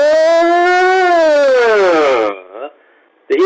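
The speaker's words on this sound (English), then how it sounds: "you'll now hear a continuous up and down tone." A continuous test tone, captured through a Bluetooth earbud microphone recording to a Motorola G5S Plus smartphone, sweeps smoothly upward and then downward, loud and close, before breaking off briefly and restarting.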